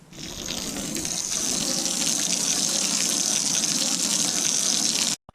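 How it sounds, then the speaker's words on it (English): A strong, continuous rush of water from a garden hose hitting a C5 Corvette's door window, steady and loud, cutting off abruptly at the end. "I'm literally just going to go ahead and hit this door window interface with the hose"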